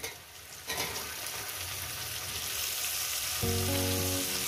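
Okra sizzles steadily in a pan, frying for a poppy-seed vendi posto dish; the sizzle grows louder toward the end as a steady tonal hum rises beneath it, with no talking.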